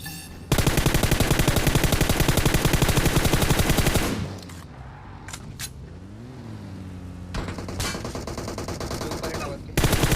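Rapid automatic gunfire from PUBG Mobile rattles loud and continuous for several seconds, drops away to quieter game ambience with a few isolated shots, then another burst of fire resumes.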